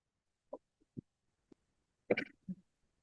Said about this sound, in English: I needed to cough just as I took the mic